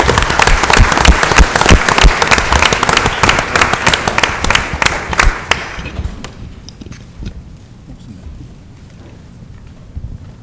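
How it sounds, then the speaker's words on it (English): Dense applause fills a city council meeting in Linden for about six seconds, loud and close, then tapers off into scattered claps and quiet room tone. "They deserve a round of applause."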